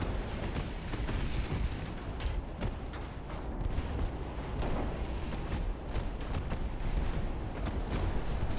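Naval gunfire from warships in the game Ultimate Admiral: Dreadnoughts, with dense, rumbling booms and shell blasts rolling one after another in a continuous low roar, no voices over it.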